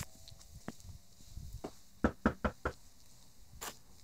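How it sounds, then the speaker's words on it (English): Four sharp knocks on a homeowner's front door land in a quick, evenly spaced run, close and crisp, with a brief thud just before them and quiet outdoor background around. "Let's go knock on the door and see what he thinks."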